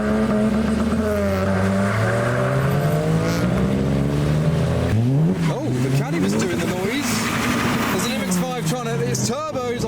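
Turbocharged modified cars, including a Nissan 350Z, accelerate hard on a wet road in heavy rain as they leave a car show, engines revving loud and close with rising and falling pitch sweeps, while people talk over the noise.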